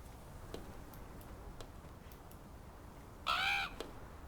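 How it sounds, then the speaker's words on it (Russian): A crow caws and flutters against a window in the Draugen video game, a short harsh burst amid faint ticking and quiet ambience. "Бьется в окно, ворона."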